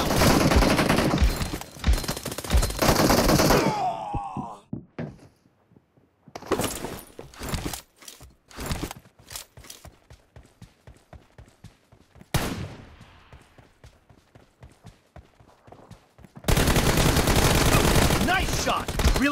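Gunfire in a first-person shooter video game: dense sustained automatic bursts, then rapid rattling single shots and clicks, a sweeping whoosh, and another loud continuous burst of fire, all close and heavy.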